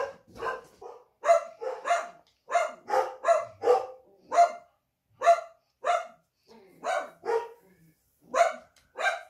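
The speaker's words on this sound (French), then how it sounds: "il suffit d'un aboiement et tout le monde s'y met" Several dogs bark together in quick, uneven bursts, roughly twenty barks overlapping and answering one another at close to mid distance, with short pauses between volleys.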